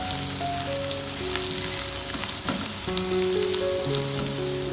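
Green chillies sizzle loudly in hot oil for dhaba-style masala bhindi, a dense continuous crackle with faint stirring, no talk.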